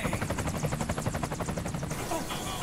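Helicopter in the video game Metal Gear Solid 4, a rapid rhythmic rotor chop pulsing steadily for about two seconds before easing into a smoother engine drone, with faint game sounds around it.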